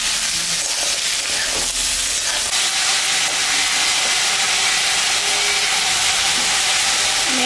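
Sliced ridge gourd and pointed gourd hit a pan of browned onion, giving a continuous loud sizzling hiss that holds steady from start to finish, with no talking.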